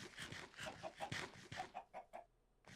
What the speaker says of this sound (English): Hey, we got chickens.